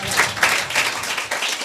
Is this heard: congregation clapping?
yes